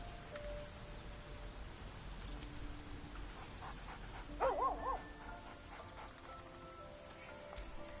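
Scratch, the dog in the video game Baldur's Gate 3, gives a short whimpering yip cluster at mid-distance over a quiet ambient bed, with a few faint pants and no talking.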